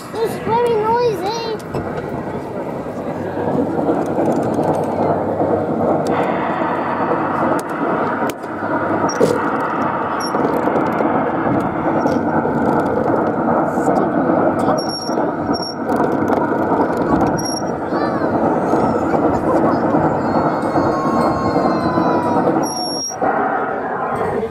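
A coin-operated Puffing Billy kiddie ride runs with a loud, steady mechanical rumble and whir, with faint electronic beeps and tones on top.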